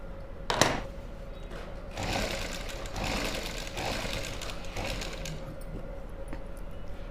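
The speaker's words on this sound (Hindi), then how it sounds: "यहाँ पे सिलाई स्टार्ट करेंगे। सिलाई हमें यहाँ पे आधा इंच की लगानी है।" A sewing machine stitches salwar fabric with a half-inch seam, running in a few short bursts of rapid mechanical whirring after a sharp click near the start, close by and without speech.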